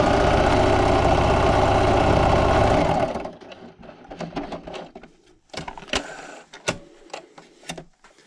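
A sewing machine stitches around the edge of a scrappy strip quilt, running loud and steady for about three seconds before stopping, followed by quieter handling clicks and taps of fabric and pins.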